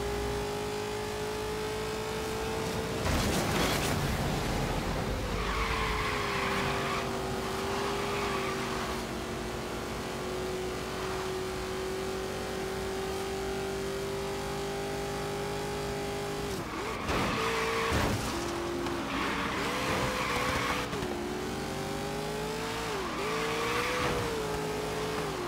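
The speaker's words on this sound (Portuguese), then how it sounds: "Eu faço esse drift brincando, cara." Tires squeal and an engine revs hard as a car drifts in the racing game Forza Horizon 3, with a sustained loud engine tone and screeching skids throughout, no talking.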